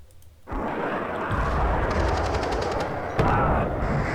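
Sustained heavy rumble of gunfire and explosions in the real-time strategy video game Warno, a dense continuous roar with a sharper blast partway through, loud and unbroken with no talking.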